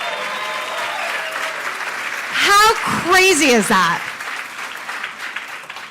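Audience applause welcomes the band home to Ajax, a burst of clapping that swells mid-clip and then fades, with a speaker talking over and around it.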